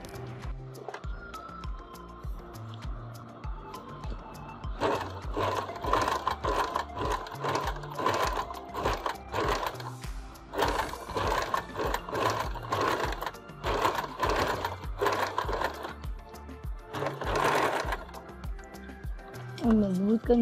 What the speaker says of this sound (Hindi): अब मैं इसको रेगुलर फुट लगा के एक सीधी सिलाई, यहाँ पे ऊपर एक सीधी सिलाई लगाएंगे।